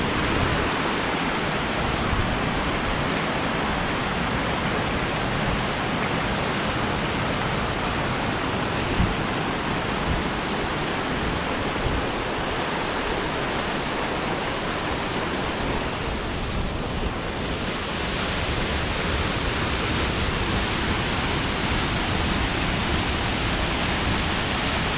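A waterfall on the Snaefellsnes peninsula in Iceland pours with a constant, dense roar of rushing water, mixed with some wind noise, unbroken and without speech.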